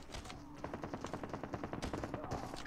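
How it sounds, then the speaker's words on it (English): Rapid gunfire and hit marker clicks in Call of Duty Mobile during outlaw nuke gameplay, a dense run of sharp, evenly spaced shots lasting a couple of seconds, close and loud. "Oh, hit markers."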